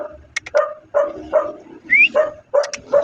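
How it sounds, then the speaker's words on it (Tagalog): Several dogs bark repeatedly in short, loud bursts near a garage where brake work is being done on an Isuzu MU-X, with a brief higher yip mixed in. "pagpasensya nyo yung mga aso dito mga boss"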